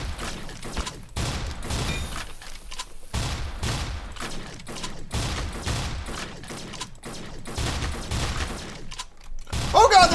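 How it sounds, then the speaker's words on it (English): Automated turrets fire in Fallout Equestria Remains, a loud run of rapid gunfire bursts repeating steadily for about ten seconds, with game effects and a few speech-like sounds mixed in. "Oh god, there's turrets!"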